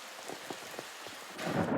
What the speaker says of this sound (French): La foudre tombe sur cet arbre